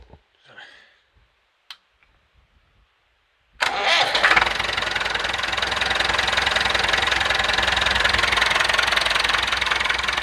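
After a few quiet seconds with small clicks, the diesel engine of a Massey Ferguson 165 tractor cranks and catches, then settles into a loud, steady rumbling idle.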